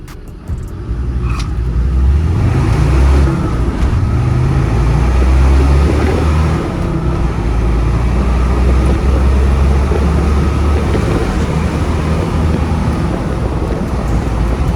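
A Land Rover Defender's stage 2 remapped TD5 diesel engine rumbles steadily and loudly throughout, a constant low drone with no voices.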